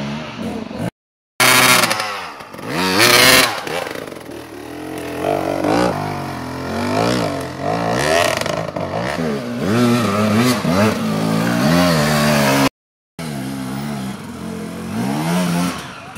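Enduro motorcycle engine revving repeatedly near a pub, loud and close with rising and falling pitch sweeps, interrupted by two brief dropouts.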